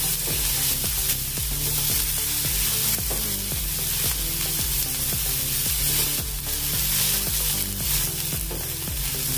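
Food sizzles and fries in a pan while it is stirred, a continuous loud crackling hiss with scraping stirs throughout, under steady background music and with no voices.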